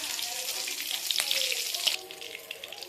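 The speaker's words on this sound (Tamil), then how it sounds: "சீரகம் நல்லா பொரியட்டும்." Cumin seeds and green chilies frying in hot oil in a pan for chicken gravy, giving a close, steady crackling sizzle with small pops and one brief louder burst, heard alone.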